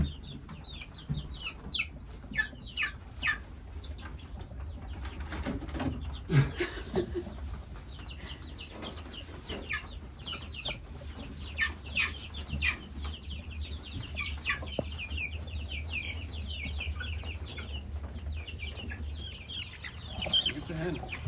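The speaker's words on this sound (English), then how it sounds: "It's a hen." Young hens being moved into a coop during a thunderstorm cluck and chatter in short, repeated calls near and far, over low rumbling, with people talking quietly in between.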